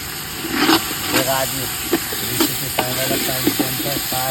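Onions and potatoes sizzle as they are sautéed for pulao at a roadside cooking spot, a spatula scraping and clinking in the pan while people talk nearby and traffic hums in the background.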